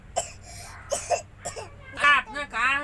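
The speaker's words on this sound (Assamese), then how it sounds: "আপোনাৰ কাহ হৈছে" Someone gives a few short coughs and throat clears in quick succession, close to the listener, ending in rougher, voiced hacking.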